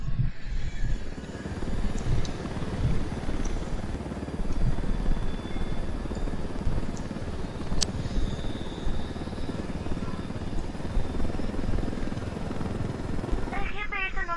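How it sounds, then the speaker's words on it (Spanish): A helicopter in the video game Ghost Recon: a steady, dense rotor and engine rumble fills the whole stretch, loud and continuous, with faint chirpy sounds near the end. "Cojamos tu helicóptero."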